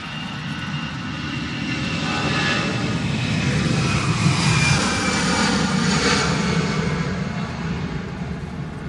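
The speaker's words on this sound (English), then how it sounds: "EasyJet off to Geneva." An EasyJet airliner bound for Geneva takes off at Manchester Airport in stormy crosswinds, its jet engines building into a loud sustained roar that swells at mid-clip and holds with no talk.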